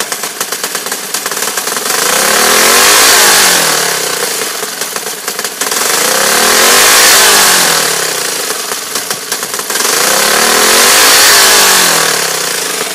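A small Predator gasoline engine, during break-in, revs up and settles back down three times in slow cycles, loud and close, with a rough idle between rises.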